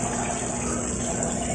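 A 10-watt 3-in-1 aquarium water pump with an overhead filter runs steadily, giving a continuous close rushing, bubbling water noise with no pauses or voices.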